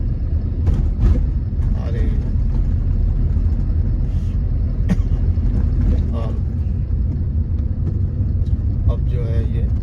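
A line of road vehicles rolls past near Begusarai, a constant low engine rumble close by, while someone talks over the traffic noise.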